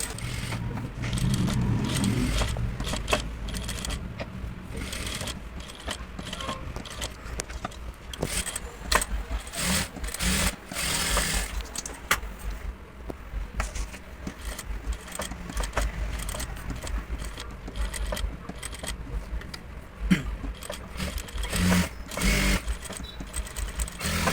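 A sewing machine stitches a water drop blouse neck design in a continuous, close rattling whir with irregular clicks, and no voices over it.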